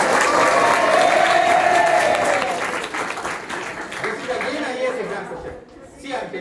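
An audience applauds a correct answer during a study-skills lecture, a loud sustained burst of clapping with crowd chatter that fades toward the end.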